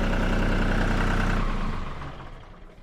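A TYM 2515 tractor engine idles with a steady low rumble, then shuts off and the noise fades away over the final second or so.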